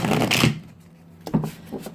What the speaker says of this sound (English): I'm going to keep shuffling a little bit while I pull in the energy of Gemini.